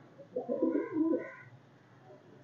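Soft, low pigeon cooing, a few throaty rolling coos close by, fading into quiet.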